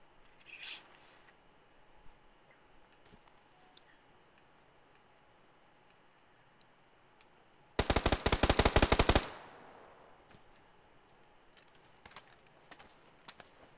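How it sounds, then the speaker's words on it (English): Rapid burst of automatic gunfire in an online shooter match, a loud dense volley of about a second and a half standing out against quiet ambient background with faint distant pops. "Gunfight happening up ahead."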